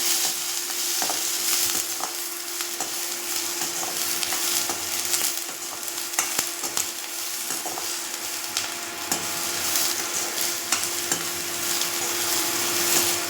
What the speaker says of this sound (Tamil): இந்த கொஞ்சம் வெங்காயம் இருக்குது பாருங்கள், அதையும் சேர்த்து போட்டு வதக்கிக்கலாம்.